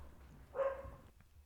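A single short, muffled dog bark sounds from a distance over a quiet room background.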